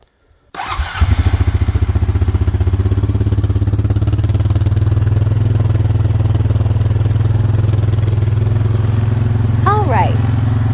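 A Honda ATV engine after a carburetor replacement starts up after a moment of silence and settles into a loud, steady, rapid idle close by. A short squeak or voice sounds faintly near the end.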